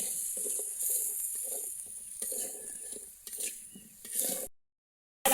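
Ground spices with salt, turmeric and coriander powder are sautéed in a pan, giving a steady sizzle broken by scraping stir strokes for about four seconds before the sound cuts off.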